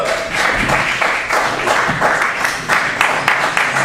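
A comedy club audience at Joey's Comedy Club breaks into sustained applause, a thick, continuous patter of many hands clapping at once, loud and close.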